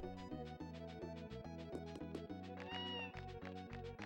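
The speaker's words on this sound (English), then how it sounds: "Sounds like a cat." A cat meows in the Tales of Phantasia video game, its cries rising clearly several times over steady, looping game music.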